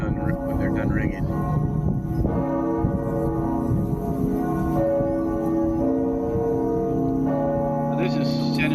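The bells of Helsinki Cathedral's bell tower ring in a sustained, resonant wash of overlapping tones that hangs in the air at a moderate distance, steady throughout with outdoor ambience.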